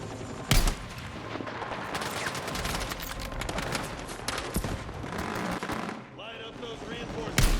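Sustained Battlefield 6 gunfire laying down cover fire: rapid automatic bursts and sharp shots close by, dense and loud, with soldiers' voices calling out over the firefight.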